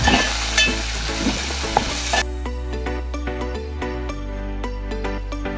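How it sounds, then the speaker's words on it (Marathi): Tomato frying with onion in a pan for dried salted surmai curry: loud sizzle at first, then sharp repeated spatula clinks and scrapes against the pan. "टॅमॅटो पण कांद्यामध्ये छान पैकी फ्राय करून घेऊया"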